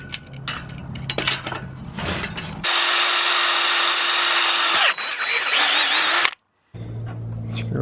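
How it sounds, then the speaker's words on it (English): A power drill bores through a metal light bar mount on a lifted Mazda Miata off-road build. Mechanical clicking comes first, then a loud, steady whine runs for about three and a half seconds and cuts off, followed by a lower motor hum. "We'll go ahead and drill through this thing."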